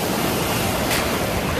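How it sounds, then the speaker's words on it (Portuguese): Ocean surf breaking and washing onto a beach on the Algarve coast of Portugal, a steady broadband wash of water with a slight swell near the middle, no talking. "Lá vem a onda."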